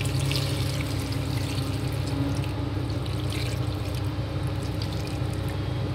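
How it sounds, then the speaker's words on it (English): Steady water pouring into a pot of vegetables and dal for Sri Lankan sambar, a continuous even splashing trickle lasting several seconds at moderate volume with no talking. "Okay, so I'm adding in the water right now."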